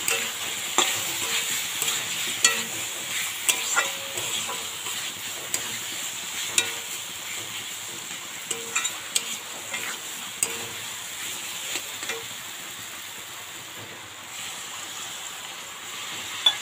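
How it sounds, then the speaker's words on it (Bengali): Spice paste with ginger sizzles and fries steadily in a pan while a utensil scrapes and stirs it in frequent light strokes, with no talking. "আর আদা যেটা আছে ভালো করে না ভাজলে ওটাও কাঁচা গন্ধ লাগবে, সেই জন্য মশলাটা অবশ্যই ভালো করে ভেজে নেবেন"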